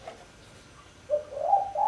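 A spotted dove (tekukur) gives a few soft, close coos near the end, after a quiet start with low background hiss.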